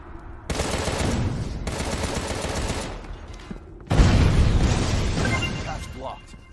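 Rapid automatic weapon fire from the video game Contra Rouge Corps rattles in two long, loud bursts separated by a short pause, with dense booming impacts and no talk.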